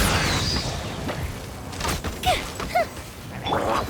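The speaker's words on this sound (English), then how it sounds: "Here comes the fireworks!" A fireworks attack in the video game Genshin Impact sets off a cluster of booming bursts and crackling thuds. Bright whistling chirps follow, heard close and fairly loud, with no talking.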